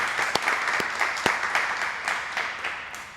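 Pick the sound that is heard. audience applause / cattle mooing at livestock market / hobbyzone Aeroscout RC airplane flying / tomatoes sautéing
audience applause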